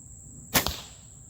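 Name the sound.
arrow shot from a bow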